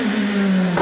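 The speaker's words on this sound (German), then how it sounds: "das typische Laguna Startgeräusch" A Renault Laguna at a motorsport training run in Wolsfeld gives a brief, steady engine drone that swells into a rev at the very end, close and alone.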